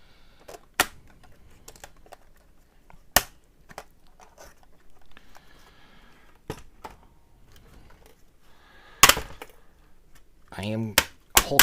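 A laptop casing and trim pieces are pried apart, giving sharp isolated plastic clicks and snaps scattered through quiet stretches, with a brief voice near the end.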